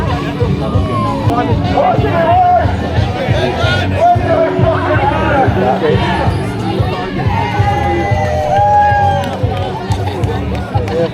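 A large crowd at a political demonstration in Edinburgh, with loud, dense babble, shouts and cheering voices, and steady outdoor commotion close by throughout.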